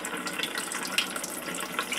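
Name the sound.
water spilling over a model waterfall reservoir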